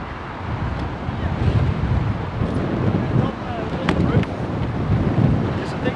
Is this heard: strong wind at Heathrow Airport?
yes